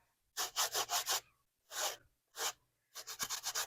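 Fresh ear of corn being shucked by hand for a summer vegetable casserole, then its silk scrubbed off with a silicone-bristled brush: bursts of dry rustling and brisk scraping strokes in quick rhythmic runs, close and clear, with short pauses between.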